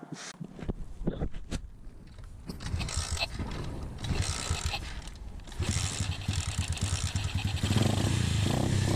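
A pit bike engine running with the choke on, a busy, clattering motor that sputters unevenly, then settles into a steadier, louder idle with faint revving, close by and with no talk.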